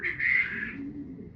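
A young Dubai One Loft race pigeon gives a soft, close cooing call lasting about a second, fading into a quieter low murmur with no talking.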